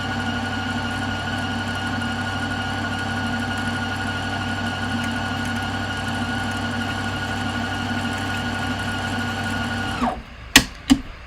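A sewing machine winding a bobbin hums steadily and close for about ten seconds, then stops with a few sharp clicks.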